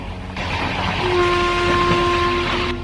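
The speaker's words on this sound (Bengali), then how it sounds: "দূরে ঝড়ের গতিতে একটা ট্রেন এগিয়ে আসছে" A cartoon train speeds closer on its tracks, its loud rolling rumble swelling and a sustained horn blaring over it in a single long tone before the sound cuts off abruptly.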